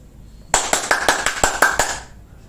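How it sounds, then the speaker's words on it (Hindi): Roughly eight sharp hand claps in a quick, slightly uneven rhythm, close and fairly loud, forming a short burst of applause that stops abruptly after about a second and a half. "तालियां बजती है"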